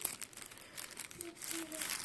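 A plastic bag holding sandpaper for an Einhell polisher crinkles and rustles up close, a few soft crackling bursts as it is pulled open, fairly quiet.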